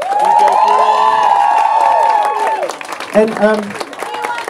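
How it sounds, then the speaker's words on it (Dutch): A crowd claps and cheers loudly for a DJ at a dance crew showcase, a sustained wash of applause with high whoops and shouts that thins out toward the end while a voice speaks. "Even een heel groot applaus voor onze Floor."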